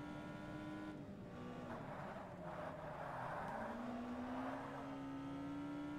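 Race car engines from Forza Motorsport, steady droning harmonics with one engine note dipping and then rising again as a Vauxhall is overtaken, continuous and fairly loud with no talking.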